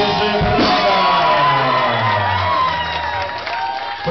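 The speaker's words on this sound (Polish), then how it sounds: "No jest, duży brawa!" Wedding reception guests cheer, shout and whoop loudly as a crowd, with a dense burst of excited voices sustained throughout and no clear clapping standing out.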